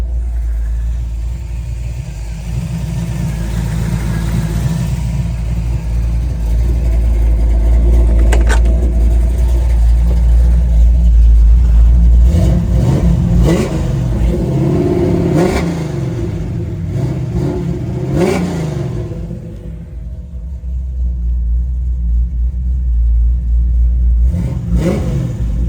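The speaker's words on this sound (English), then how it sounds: "That's what an engine is supposed to sound like." A 1972 Chevrolet Nova's 350 small-block V8 with a four-barrel carburetor revs hard several times, rising and falling over a loud, close rumble, then settles back to a throaty idle.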